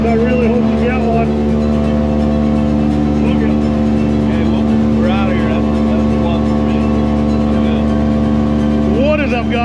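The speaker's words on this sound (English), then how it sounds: "Don't know if you can hear me over this outboard" A boat's outboard motor runs steadily at close range, a loud continuous engine drone with a sustained harmonic hum throughout, while a voice talks over it, out on the water while fishing for New England striped bass.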